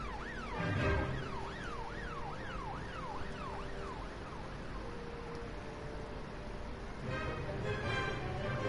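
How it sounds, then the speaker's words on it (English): Ambulance siren from the police-management video game This Is The Police, a wailing up-and-down electronic sweep that repeats steadily through the whole stretch over low engine rumble, loud and continuous with no talking. "an ambulance is on the way"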